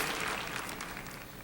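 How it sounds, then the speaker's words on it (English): An audience applauding at the Oscars ceremony, a broad wash of clapping heard at a distance, steady and fairly faint. "I just looked at all these people, and they were applauding."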